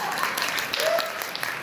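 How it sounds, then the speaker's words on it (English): Applause from an audience at a comic convention voice-acting panel fills the room briefly: dense, moderately loud clapping with overlapping voices. "Clap."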